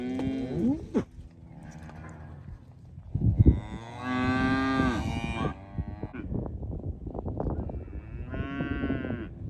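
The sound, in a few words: cattle mooing, cows and calves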